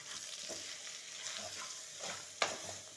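Bitter gourd pieces tossed with salt, chili and ginger garlic paste, a spoon stirring and scraping the pan in soft irregular strokes, fairly faint, with one sharp clink of metal.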